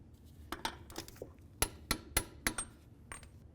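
A CV axle nut on a Nissan Sentra being torqued down with a torque wrench, giving a series of sharp metallic clicks and clanks, about eight distinct hits spaced unevenly, close and fairly loud against a quiet garage background.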